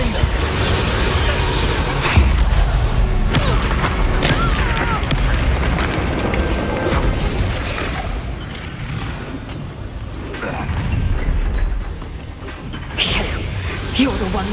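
Spell explosions from Hogwarts Legacy fighting, with a fire-blast Confringo among them. Deep booming blasts hit repeatedly over a dense, loud battle din. Spoken lines from the game are mixed in.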